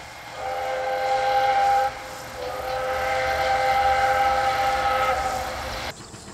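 A train running along the Gokseong railway beside the Seomjin River in autumn, with a steady rumbling passage and a long sustained whistle blowing over it, fairly loud and close, ending abruptly near the end.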